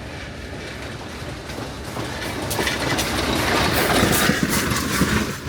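Narrow gauge locomotive K37-493 of the Durango and Silverton railroad, hauling the southbound Cascade Canyon Express past Oxbow Park in the evening, rumbling and clattering as it draws closer, growing steadily louder across the clip.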